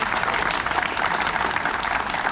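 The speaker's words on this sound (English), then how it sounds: "Give this gentleman a big round of applause." Crowd applause at an exotic car rally event, a dense, even wash of many hands clapping that holds steady and fills the space throughout.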